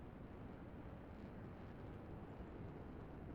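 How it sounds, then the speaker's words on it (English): Many airplanes in the strategy game Line War produce a steady, unbroken engine drone, a dense low roar that holds at an even level throughout. "That's a whole 2 airports and an airstrip worth of planes."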